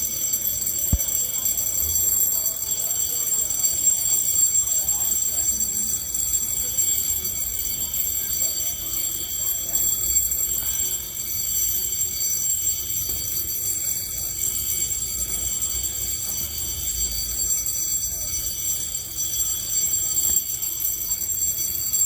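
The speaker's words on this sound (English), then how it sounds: "We'll hit the alarm." A fire alarm goes off inside the Manchester, New Hampshire police station during a drill, a steady shrill electronic tone running unbroken for the whole stretch over a low murmur of background activity.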